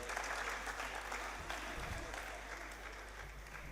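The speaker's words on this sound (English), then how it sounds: "Please, another round of applause for him." Applause from a conference audience honouring a university vice chancellor, dense continuous clapping filling the room at fairly loud level, with faint murmurs and low rumble beneath.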